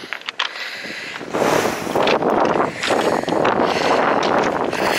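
Strong wind gusts at a pebble beach on the coast at Porlock, roaring and buffeting the microphone in a loud continuous rush after a quieter start, with no talk.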